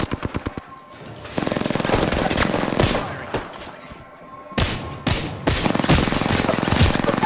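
Rapid bursts of automatic gunfire in a shooter video game, loud and close, firing in repeated stretches separated by brief pauses.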